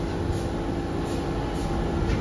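An A subway train at Rockaway Blvd station gives off a steady, loud rumble with a continuous roar of wheels and motors, unbroken for a couple of seconds.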